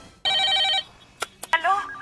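Telephone ringing in a film scene, a bright harmonic ring lasting about half a second followed by a few sharp clicks and a second rising tone, fairly loud and close.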